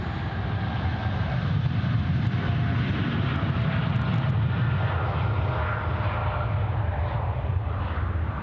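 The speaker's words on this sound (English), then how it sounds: "789's rolling too." Qantas Boeing 787-9 rolling for takeoff at Sydney Airport bound for San Francisco, a dense, sustained jet engine roar heard at a distance, steady and unbroken with a faint whine running through it.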